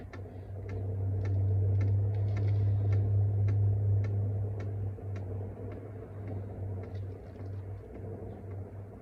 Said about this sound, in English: Oh, and the pump is getting quieter. Here it get quieter and quieter. Now it's going a little faster.